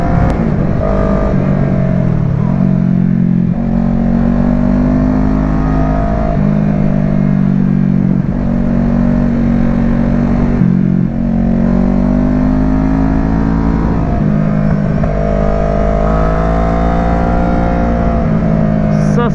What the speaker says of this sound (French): Oh là, le Mustang là.